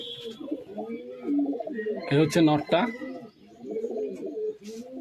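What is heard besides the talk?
pigeons cooing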